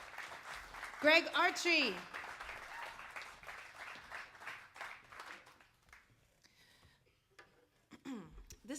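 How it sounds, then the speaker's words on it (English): An audience at a live studio music performance claps for the band, light scattered applause running beneath a voice announcing names, fading out after a few seconds. "let's give them a round of applause"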